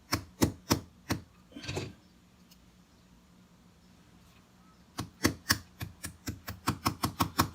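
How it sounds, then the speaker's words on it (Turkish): Light hammer taps seat a pin into a Sarsilmaz SAR9 pistol frame: three sharp knocks and a scrape, a quiet pause, then a quickening run of about ten crisp, close taps. "hafiften vurarak tam aynı hizaya gelecek şekilde piminizi yerine oturtturuyorsunuz arkadaşlar."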